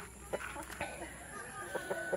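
A few soft clucks from a rooster, a crossbreed of Iron Simani and Black Australorp, fairly close, over steady background hum and faint outdoor noise.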